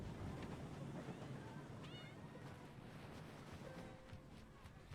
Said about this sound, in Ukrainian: Це кіт? Чи пес? Кіт.